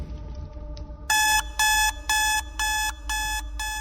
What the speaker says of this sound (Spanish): Otra vez fui sacado de mis sueños por la alarma.